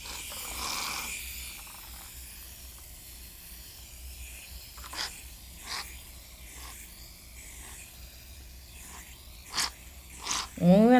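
A soft, airy hiss of a shaving cream aerosol can spraying in bursts, with faint rubbing and a few brief louder sounds near the end.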